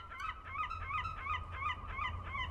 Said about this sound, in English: God, birds, you're loud.